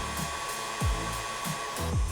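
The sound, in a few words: electric stand mixer mixing cake batter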